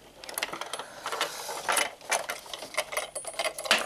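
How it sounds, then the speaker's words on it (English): A sewing machine stitches a box stitch across a martingale collar in short bursts of fast mechanical clatter and ticking, pausing and restarting, fairly close and at moderate volume with no talking. "we're going to sew a box stitch"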